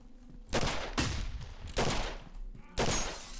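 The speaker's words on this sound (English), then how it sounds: "Goddamn shotgun." A shotgun in the video game Condemned: Criminal Origins fires four heavy, booming blasts in quick, irregular succession, each followed by a lingering tail.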